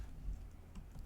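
Typing a file code on a computer keyboard in a mystery video game produces faint, quick key clicks over a low background hum.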